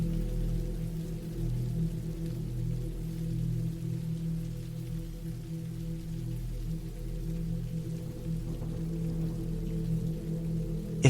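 Steady rain falls in the woods, a constant low rushing hiss with no breaks and no voices, broken only by a brief sharper knock at the very end.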